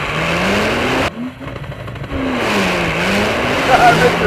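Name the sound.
Porsche 911 Turbo S launch control standing start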